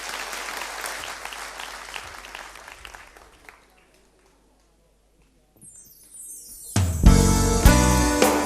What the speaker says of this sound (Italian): facciamo un bel applauso per forza a loro.